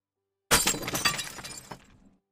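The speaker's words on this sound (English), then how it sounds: "I'm gonna smash the bottle" A glass bottle smashes onto a floor with a sudden loud crash, followed by a second or more of scattering, tinkling shards and a smaller late impact as pieces settle.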